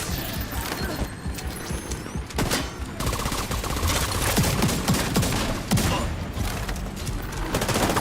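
Rapid gunfire from The Division 2 as a magazine is emptied in a long sustained burst of shots, loud and dense throughout, with game effects and faint voices mixed underneath.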